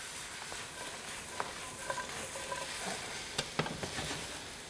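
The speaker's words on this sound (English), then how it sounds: "actually sauteing the eggplant, onion, and garlic together" Eggplant, onion and garlic sizzling in a hot pan, a steady crackling fry with occasional clicks and scrapes from stirring, close and fairly soft.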